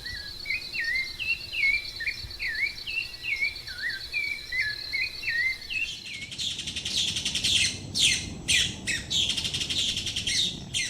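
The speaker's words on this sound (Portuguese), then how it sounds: "casaca de couro no fundo, né?" A casaca-de-couro bird repeats a series of rising, squeaky calls in the background. Loud insect chirring takes over partway through, with no talking.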